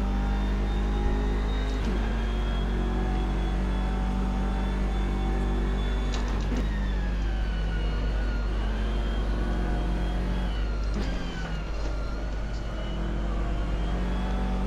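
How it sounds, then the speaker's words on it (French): Racing game car drifting through a corner at Suzuka, a steady engine drone with tonal whine rising and falling as the revs shift, continuous and close with no talk. "Petit drift et ça nous fait perdre tout le temps qu'on avait gagné."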